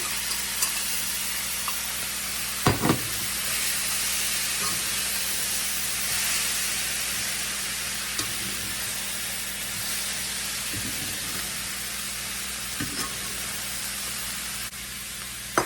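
Browned rice, meat and bacon sizzling together in a pan, a constant hissing fry with occasional spoon scrapes and clanks as the mixture is stirred, steady and close with no talking.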